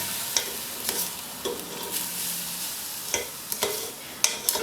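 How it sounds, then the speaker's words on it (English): Chicken being stirred in a pan while making biryani, with repeated scraping clinks of the utensil against the pan over a steady background sizzle; close and moderately loud, no talking. "First I'm going to stir the chicken."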